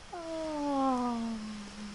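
A kitten in the video game What Remains of Edith Finch gives one long, clear meow. It starts high, falls slowly in pitch, and is held for close to two seconds with no other sound around it.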